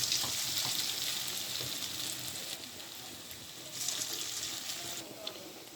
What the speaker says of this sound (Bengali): এক এক করে বড়াগুলো দিয়ে দিচ্ছি শেপ করে করে।